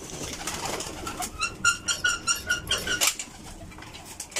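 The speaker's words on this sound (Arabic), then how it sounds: "ولذلك الحمام" Pigeons cooing close by, a series of about eight rhythmic, throaty coos in quick succession, with a brief flutter or rustle near the end and a faint background murmur.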